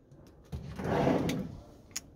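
A drawer slides open inside a Mobilvetta Design motorhome from the 2024 range, making a brief rolling rumble with a light click at the start and a small knock at the end.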